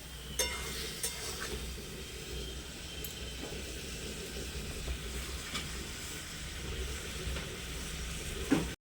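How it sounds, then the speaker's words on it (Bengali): A spice paste of garlic, onion and ginger fries with tomatoes and chicken over a wood fire, giving off a steady close sizzle with a few faint scrapes of stirring and no talk. "তো একটু এই মশলাটা কষে নেবো, না হলে একটু রসুনের গন্ধটা ছাড়বে।"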